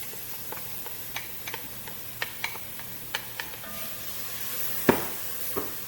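Onions stirred into a gumbo roux in a heavy pot over low heat, a soft steady sizzle under a string of sharp spoon clicks against the pot, close and fairly quiet, ending in a louder clatter.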